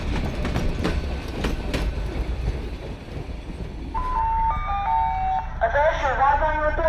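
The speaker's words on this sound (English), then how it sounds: "Here comes our ride, a diesel-old train pulling in" An old diesel train pulls in on the Budapest Children's Railway, with low rumbling and clattering wheels, then tonal horn or signal notes and a squealing, whining sound near the end, heard up close.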